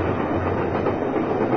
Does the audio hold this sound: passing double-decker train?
yes